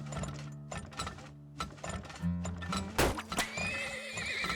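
Horses in the Turmoil video game neigh loudly and whinny while hooves clop in an irregular rhythm, with mechanical clicking underneath and a long, wavering whinny toward the end.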